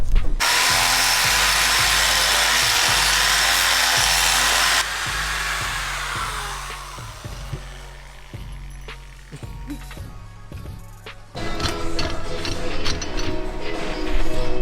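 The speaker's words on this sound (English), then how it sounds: "we're just gonna drill out the bottoms of the coils so that they'll fit the bolts" A power drill bores out the bottoms of Honda Civic suspension coil springs, a loud whining run cutting off after a few seconds, followed by clanks and rattles of metal, then another stretch of drilling.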